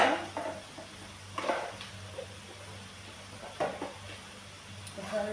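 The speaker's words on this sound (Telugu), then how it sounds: "ఒకసారి తిప్పాను" Chilli masala stirred in a cooking pan, a few separate bursts of metal-on-pan scraping over a low steady hum, fairly close and moderate in level with no talk.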